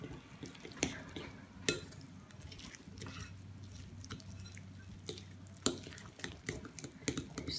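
A spoon stirs pancake batter in a bowl, soft wet scraping and dabbing with a few sharper clinks against the bowl, quiet and close, no talking.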